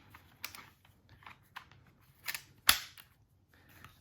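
A Glock 43x pistol clicks into an MCK gen2 conversion kit with one sharp, close snap among several quieter handling clicks and rattles in a quiet room.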